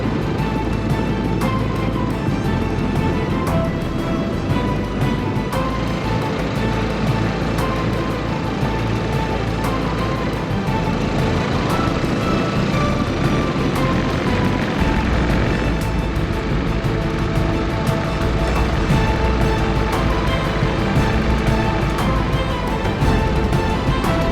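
A Royal Enfield motorcycle engine runs steadily on a remote South African track, a loud continuous drone with a constant rumble throughout and no voices.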